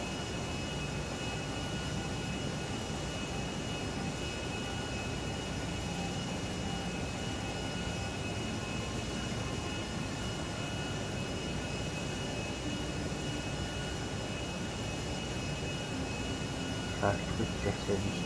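Jet airplane engines roaring steadily in GTA Online as a plane flies over the city of Los Santos, a constant broad whoosh with a faint tonal hum.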